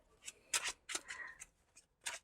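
A deck of playing cards being shuffled by hand: several quick, crisp riffling bursts in uneven rhythm, close and fairly quiet, with short pauses between them.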